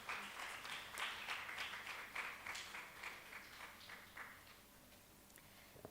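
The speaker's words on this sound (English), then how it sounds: "Please join me in welcoming him with a round of applause" Audience applause welcoming a Bharatanatyam presenter at an evening dance event, a steady wash of many hands clapping at moderate distance that holds for about six seconds and thins slightly toward the end, no voices over it.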